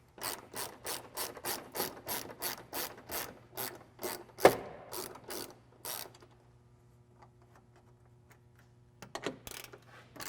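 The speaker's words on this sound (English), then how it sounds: "we are going to start by removing the two 10mm bolts that are holding it on right here" A ratchet wrench loosens 10mm bolts on a Toyota Tacoma grille, a rapid run of close clicks that stops, then a short burst of ratcheting after a quiet pause.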